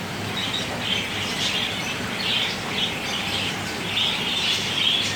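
Parrots call after heavy monsoon rain, their bright chirps repeating above a dense, steady hiss of rainfall that runs through the whole stretch.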